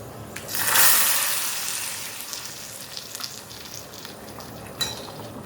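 Mustard seeds sputter in hot oil for rasam, a close, dense sizzle that flares loudly early on, then settles into a continuous crackle with scattered pops and a sharp spit near the end.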